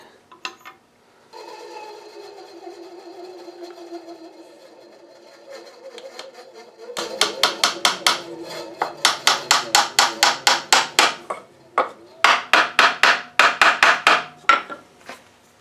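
A small Zona razor saw cuts a short piece off a quarter-inch wooden dowel, rapid back-and-forth rasping strokes in quick bursts, close and clear, after a brief stretch of quieter scraping.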